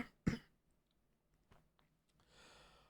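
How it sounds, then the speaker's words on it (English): A sick man gives one sharp, close cough followed by faint throat sounds and light breathing in an otherwise quiet room. "but the cough, man."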